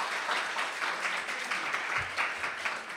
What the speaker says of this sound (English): if everyone could give a round of applause to my father who's here, my mother, and my husband